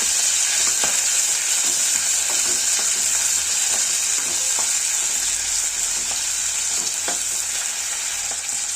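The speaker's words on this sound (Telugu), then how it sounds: "నూనె వేసి పచ్చిమిరపకాయలు, ఎర్రగడ్డలు ఇట్లా వేయించాలి." Green chillies and onions frying in hot oil give a loud, steady sizzle throughout, with faint crackles and occasional stirring clicks.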